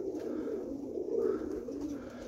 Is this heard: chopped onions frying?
no